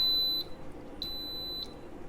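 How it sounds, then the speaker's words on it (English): Shrill electronic beeps from an appliance timer: one long tone, a short pause, then another long beep, clear and close. "Let that finish beeping."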